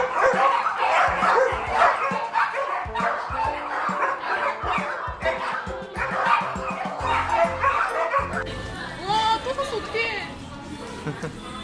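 Several dogs bark, yip and whimper in a busy Korean dog cafe, a lively mix of small and larger voices close by, with people talking throughout.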